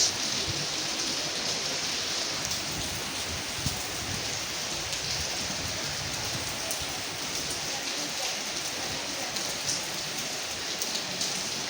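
Heavy rain pours steadily and close by, a dense, even hiss of drops hammering surfaces with no letup throughout.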